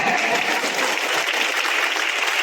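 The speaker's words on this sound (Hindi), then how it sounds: "और लोग हाथ उठाकर प्रभु को धन्यवाद देंगे, ताली बजाकर" Worshippers at a Hindi-language church service clap to thank God after a testimony, a loud, even roar of many hands close by, continuous and unbroken from start to finish.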